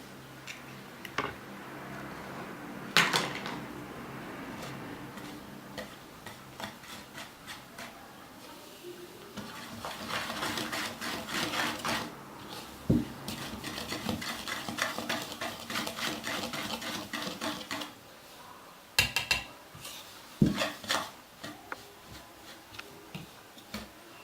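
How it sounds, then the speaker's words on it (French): An egg is stirred into far breton batter in a bowl, with rhythmic clicking and tapping of the utensil in bursts separated by brief pauses. "On va d'abord mélanger avec un œuf."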